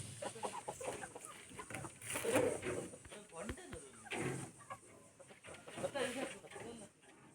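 A hen clucks after laying an egg, uttering irregular bursts of clucks at close range, with people talking intermittently around her.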